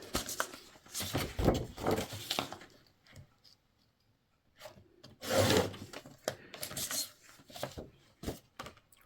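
Scissors trim a paper craft tag for a Christmas folio, giving close, dry rasping cuts in two longer bursts separated by quiet, with a few short snips between.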